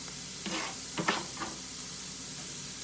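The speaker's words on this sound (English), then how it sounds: "Let's put these onions in there. We'll just put the garlic in there at the same time." Onions and garlic dropped into a pan of frying potatoes, giving a steady close sizzle with a few louder bursts and stirring scrapes early on, then an even hiss.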